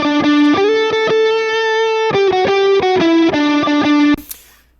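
Clean electric guitar on the neck pickup playing a short melodic phrase with warm, rounded tone and a gentle reverb tail, ending with a brief scrape as it stops.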